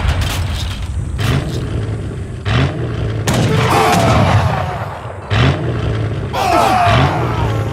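Weapon caches blowing up in Age of Empires III: Definitive Edition produce repeated heavy booming blasts with rumbling, crackling tails. The bursts come in several waves, loud and close, with background battle noise between them.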